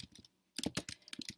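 Rapid keystrokes on a computer keyboard come in two close, fairly loud bursts of typing separated by a short pause, with no talking.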